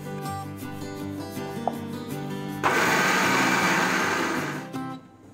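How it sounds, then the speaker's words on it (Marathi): Black peas grind in a kitchen blender for a Malvani curry. A loud, coarse whirring starts abruptly partway through, runs for about two seconds and then winds down, with quieter music before it. "अर्धा वाटाणा मी वाटून घेते."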